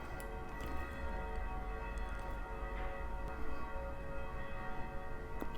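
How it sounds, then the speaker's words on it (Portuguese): A single bell rings with a long sustained tone that hangs steadily throughout, moderately loud over a faint background hum. "Oh, mas esse sino é longo"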